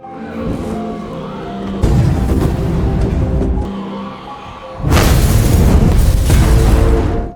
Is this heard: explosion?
yes